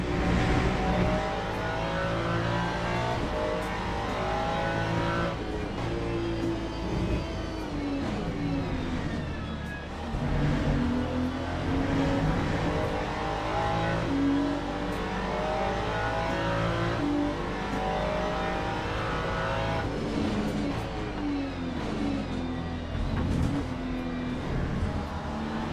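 Race cars in Le Mans Ultimate, a racing video game, battling in the rain behind a Ferrari, with a steady loud engine roar that rises and falls through gear changes and faint tire squeal.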